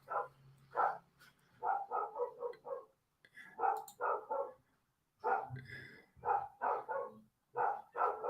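A dog barks outside in repeated bursts of short, quick barks with brief pauses between them, heard faintly from a distance.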